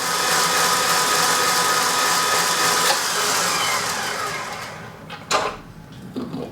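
An electric mixer whisking Swiss meringue buttercream, a steady loud motor whir with beater noise that runs for several seconds, then winds down and stops, followed by a couple of soft knocks.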